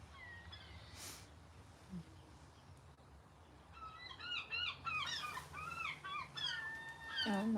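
Several loud, rising gull calls ring out in a cluster near the end, over a steady outdoor hum, with an earlier isolated cry.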